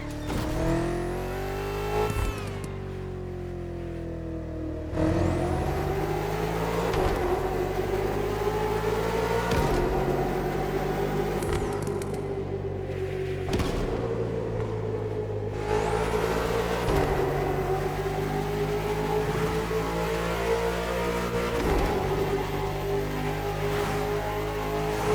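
A BMW M5 CS sedan revs and accelerates hard through tunnels, its engine climbing through gears in repeated loud pulls with rising pitch and sharp drops at each shift, close and alone with no talk.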